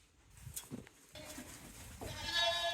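Goats bleat a few times, a short cry early and a louder, wavering bleat near the end, with some clatter in between.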